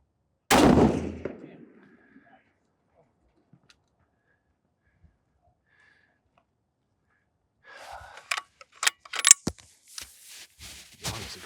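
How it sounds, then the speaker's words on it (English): A single sharp rifle shot cracks at an outdoor range, loud and close, decaying quickly into near silence, followed later by scattered clicks and handling noises. "Let's break a clean shot."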